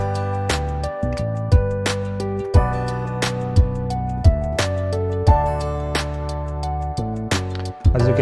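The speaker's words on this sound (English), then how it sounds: "So this is the beat that I have here so far," A melodic rap beat made in FL Studio plays alone, with sustained tonal chords and melody over a bass line, punctuated by regular sharp drum hits at a steady tempo.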